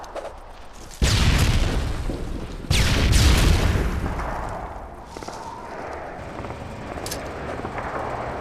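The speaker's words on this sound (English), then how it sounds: "Toss the stun grenade." A stun grenade goes off in a competitive tactical shooter match: two loud, close bursts about a second and a half apart, then a lingering hiss and rumble that slowly fades.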